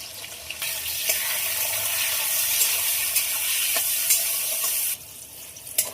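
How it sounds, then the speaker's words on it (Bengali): Bitter gourd frying in oil in a wok with turmeric and salt makes a bright, close, continuous sizzle with occasional stirring clicks. The sizzle drops sharply near the end, leaving a quieter hiss and a final clack. "তো উচ্ছেগুলো ভাজা হয়ে গেছে আর এবার উঠিয়ে নেব"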